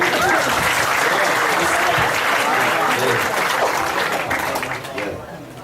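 Audience applause from a sizeable crowd at an Indonesian-language event, dense steady clapping that holds loud for several seconds before thinning and fading toward the end, with a voice faintly audible underneath.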